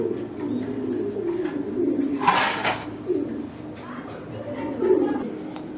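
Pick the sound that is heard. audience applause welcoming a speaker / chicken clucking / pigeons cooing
pigeons cooing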